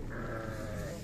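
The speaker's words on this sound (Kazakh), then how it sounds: "Екі қозы бар, қой бар, екі Қозылы қойлар бар" Sheep and lambs bleat at a livestock fair, several overlapping calls carrying steadily and close amid the crowded pens.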